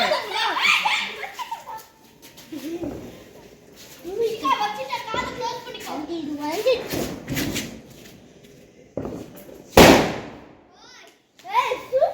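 During New Year celebrations in India, a Lakshmi vedi firecracker goes off once with a sharp, loud bang near the end, amid children chattering and laughing.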